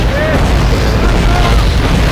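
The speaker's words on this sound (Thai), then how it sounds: "มันจะระเบิดแล้ว มันจะระเบิดแล้วไปแล้ว" An explosion goes off in the World War II shooter Call of Duty: Roads to Victory. It is a loud, sustained, rumbling boom that fills the whole moment close up.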